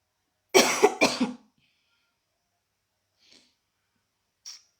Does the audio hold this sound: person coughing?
yes